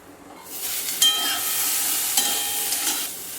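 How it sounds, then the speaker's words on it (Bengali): Papaya pieces frying in a pan, a steady bright sizzle that rises quickly and holds, with a couple of stirring scrapes and a faint clink, close and without talk. "পেঁপেগুলো ভালো করে নেড়ে একটু ঢাকা দিয়ে দিয়ে আমি পেঁপেটা ভেজে নিচ্ছি"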